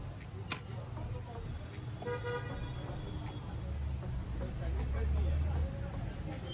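A car horn honks a few times amid street traffic noise and background chatter at an Indian street food stall.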